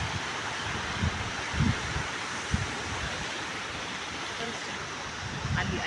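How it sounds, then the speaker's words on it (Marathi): Ocean surf with a continuous wash of breaking water and a few soft low thuds as a large wave crashes, heard from some distance with wind noise; people talk over it. "आली आली मोठी लाट आली"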